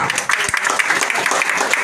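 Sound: audience applause

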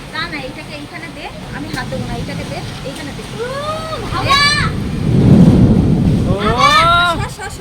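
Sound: thunderstorm with rain outside

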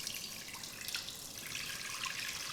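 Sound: water being poured off

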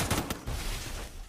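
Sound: gunfire in a shooter video game

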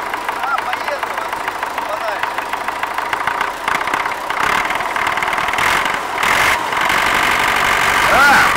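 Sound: MTZ-80 tractor engine idling

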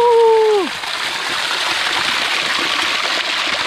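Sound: small waterfall on a mountain trek

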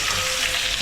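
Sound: fish oil frying with potatoes in a pan

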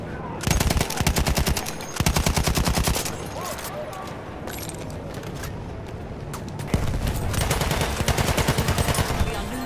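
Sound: machine gun fire in video game Battlefield 1

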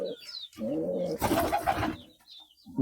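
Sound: pigeons cooing while drinking water

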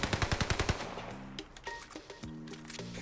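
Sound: Owen Gun submachine gun firing in video game Call of Duty Vanguard

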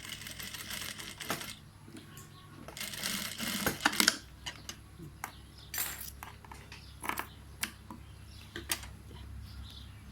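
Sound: sewing machine stitching a sarong hem

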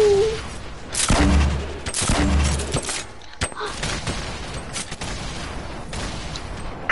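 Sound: rock launcher firing in a video game

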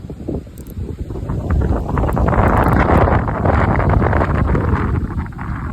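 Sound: strong wind on microphone outdoors

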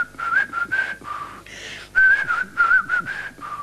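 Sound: imitated street whistling

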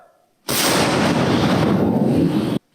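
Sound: artillery cannon firing a shot

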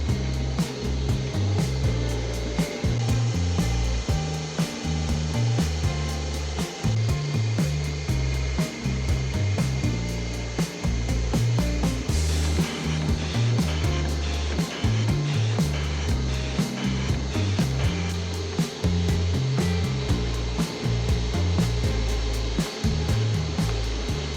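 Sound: printing shop machine running

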